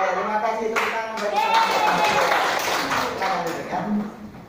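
A class at an Islamic school claps in a burst of hand applause during a blended-learning lesson in 2020, with a teacher's voice speaking over the clapping.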